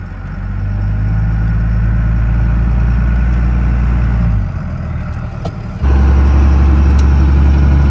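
A 2002 Ram truck with a Cummins diesel engine revs as it pulls away from a stop, a loud low drone that climbs steadily, dips briefly at a gear shift, then returns heavier and louder.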